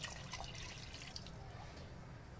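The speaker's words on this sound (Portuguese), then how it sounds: "Aqui agora vamos completar com mais um pouquinho de água" Water is poured into a pressure cooker pot of beans, a soft trickling and dripping splash that fades and thins toward the end, fairly quiet over a low background rumble.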